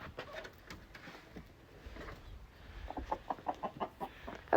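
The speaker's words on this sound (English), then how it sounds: "Okay, bye, chickens." Backyard chickens clucking close by, a run of short rhythmic clucks growing more regular toward the end over soft rustling background noise, with no one talking.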